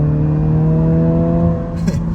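A 2023 Honda Civic Si accelerates in third gear, its engine induction drone rising steadily in pitch and loud from inside the cabin, with a brief hiss near the end.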